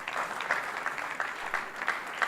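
Audience applause for a website developer at a presentation of the Smart Polynesia site, a steady, moderately quiet spread of clapping with small swells, no voices over it.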